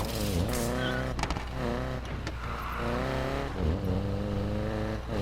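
Camaro SS in the racing game Need for Speed Payback, its engine droning steadily with pitch dips and swells as it shifts and revs, loud and continuous throughout.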